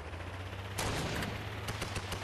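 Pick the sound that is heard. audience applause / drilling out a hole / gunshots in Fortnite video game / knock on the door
gunshots in Fortnite video game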